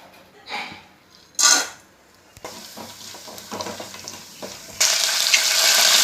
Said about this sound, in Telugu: తిరగమాతకు జీలకర్ర ఆవాలు శనగపప్పు ఎండుమిరపకాయలు వేసుకోవాలి